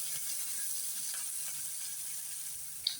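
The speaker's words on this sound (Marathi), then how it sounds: "बघा छान असं मीडियम गॅसवर फ्राय होतंय बरं का आपले." Green peas frying in a pan over a medium gas flame while a village-style chicken curry is cooked, giving a faint, steady sizzling hiss with a small clink near the end.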